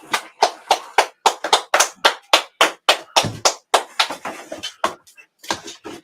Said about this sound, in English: Brother, a round of applause.